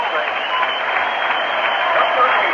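A ballpark crowd applauds Willie Stargell stepping in as a pinch hitter in a 1982 Mets vs. Pirates game, a steady, dense wash of clapping heard from a distance with no breaks.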